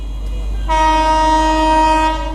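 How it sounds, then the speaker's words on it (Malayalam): A train rolls slowly past a level crossing with a loud, sustained multi-tone horn that begins abruptly and holds steady over a low rumble of rail cars. "ട്രെയിൻ വരുന്നുണ്ട് ഗൈസ്"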